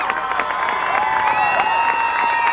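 Crowd noise at a 1998 Marshall at Coldwater high school football game: steady cheering and applause from both sides of the stands, a distant, sustained roar with a whistle-like tone running through it.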